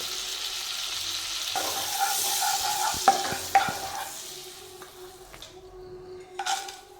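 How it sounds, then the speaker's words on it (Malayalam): Butter melts into hot oil in a pan for malai chicken, making a soft, even sizzle. Metal clinks from utensils against the pan break through around the middle and again near the end. "ഇതിലേക്ക് നമുക്ക് ബട്ടർ ചേർത്ത് കൊടുക്കാം ഒരെണ്ണം ഞാൻ ഇട്ടായിരുന്നേ ഇതുകൂടെ അങ്ങ് ഇട്ട് കൊടുക്കാം"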